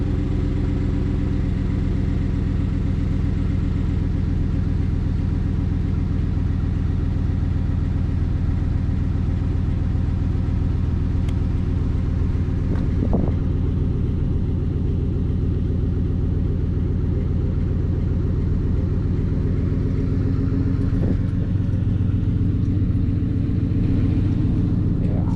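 A Chevrolet Silverado pickup engine runs after a cold start on a chilly morning, holding a loud, steady, low idling rumble close by for the whole stretch with no talking.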